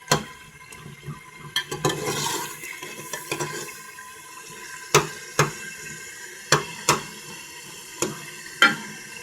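Bottle gourd (kaddu) curry frying and being stirred in a pan, a steady wet sizzle with a run of sharp utensil scrapes and clinks at intervals, close and fairly quiet, with no one talking.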